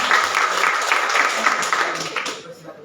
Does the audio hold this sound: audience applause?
yes